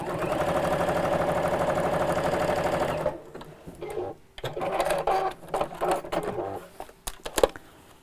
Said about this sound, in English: if I put my foot down again now and carry on sewing